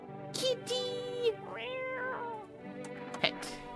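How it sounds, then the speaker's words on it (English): Cat meowing in the video game No, I'm Not a Human: several clear, fairly close meows of varied pitch and length, one rising and falling, over a steady low game background hum. "Kitty!"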